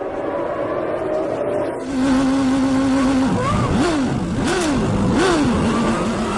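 Formula 1 cars of the 1993 season at a race start on the grid: a loud, dense engine drone swells, then climbs in repeated rising-and-dropping revs as the cars accelerate and shift gears.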